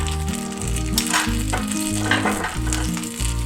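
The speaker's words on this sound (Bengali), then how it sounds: "জ্বলন্ত কয়লাটা এর মধ্যে দিয়ে দিলাম, আর দিয়ে দিলাম একটু বাটার" Butter sizzles on burning charcoal set in a bowl beside tandoori tilapia, a steady close crackle and hiss with a few louder pops and a low hum underneath.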